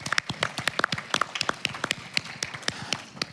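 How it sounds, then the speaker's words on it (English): Conference attendees at an HIV nursing care event give a round of applause: a modest group of clear, separate claps in an uneven rhythm, close and fairly sparse rather than a full roar. "I think we should all give each other a round of applause for all of that."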